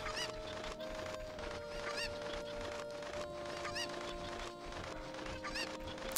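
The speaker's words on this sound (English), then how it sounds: "the first thing that we have to do when we come to Kakariko Village is help this woman collect her cuckoos." Cuckoos, the small chickens of Kakariko Village in Ocarina of Time, cluck in repeated short squawks over a steady game music drone, faint and alone without talk.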